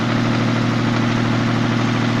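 A Toyota 7M-GE engine idles with a crankshaft knock, giving a steady, loud mechanical hum with a fine, even rhythmic tapping running through it, recorded close to the running motor with no voices.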